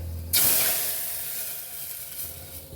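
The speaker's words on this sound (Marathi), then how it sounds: "आता याच्यामध्ये मी पाणी घालणार आहे" Water poured into hot oil holding black peppercorns, a green cardamom pod, cloves and cumin seeds for rajma rice bursts into a loud, sudden hiss that stays as steady steaming sizzle, slowly easing off.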